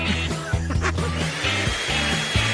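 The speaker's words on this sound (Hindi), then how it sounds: "मेरे पास एक हेयर ड्रायर है जो बहुत अच्छा काम करता है। इसकी मदद से मैं इन अनाजों को गर्म करूंगा" A hair dryer blowing hot air over corn kernels to pop them in a home kitchen, giving a steady loud whirring drone with a harmonic motor hum that runs throughout the short span without pause.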